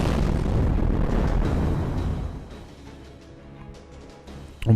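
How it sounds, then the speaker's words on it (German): A loud explosion rumbles from a castle in the Fate/Grand Order game, with a heavy, sustained low boom that fades over a couple of seconds before a sharp burst hits at the end. "The explosion come from the castle."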